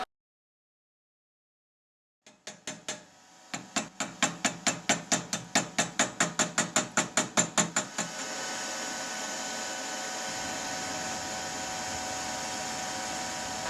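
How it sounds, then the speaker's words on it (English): Stick welding a seam on 3/16 steel plate with a 6013 rod: a run of rapid crackling strikes as the arc catches, then a steady hissing, sizzling buzz that carries on alone at a moderate level. "We're just going to weld a seam down the center of it."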